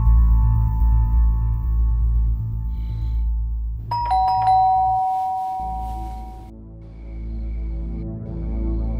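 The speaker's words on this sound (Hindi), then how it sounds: "एकदम से डोरबेल बजी" A doorbell rings indoors with a single bright ding-dong chime partway through. It rises clearly above a steady low background hum, with no voices.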